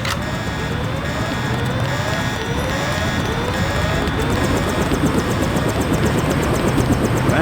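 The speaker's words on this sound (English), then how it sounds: "Take the helicopter back to base." Helicopter in the video game Deus Ex, a continuous loud rotor and engine drone with a rhythmic blade chop running steadily throughout, no voices over it.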